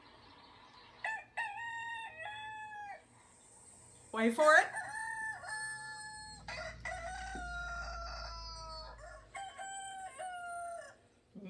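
A rooster's crow plays back from an iPad, several loud drawn-out crows ringing out clearly one after another, with a person speaking briefly between them.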